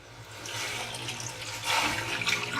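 Water poured into a cooking pot to cover a mutton raan, a rushing, splashing stream that swells louder toward the end, heard alone at close range.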